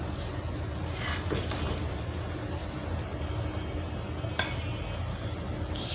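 Drumstick curry served from a cooking pot into a bowl, with a soft continuous scraping and stirring texture and one sharp utensil tap against the pot near the end, no voices.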